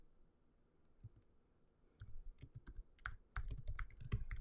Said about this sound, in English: it takes a minute to type all this up